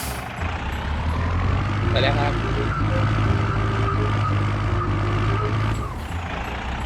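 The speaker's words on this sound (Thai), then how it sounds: "ดี๋ยวเราสิบล้อไปใส่ดินสักเที่ยวนะฮะ" A ten-wheel dump truck in Farming Simulator 19 reverses with a loud, steady engine rumble and repeated beeping, while someone talks over it.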